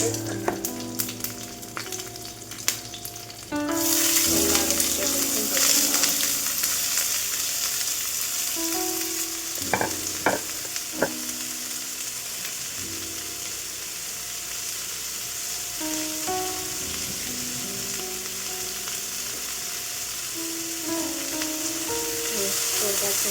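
Curry leaves drop into hot oil and fry with a loud, close crackling sizzle that swells after a few seconds of clatter and holds steady, with occasional utensil knocks.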